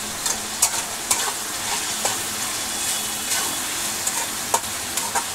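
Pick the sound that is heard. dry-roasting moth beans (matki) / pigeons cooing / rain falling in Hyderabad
dry-roasting moth beans (matki)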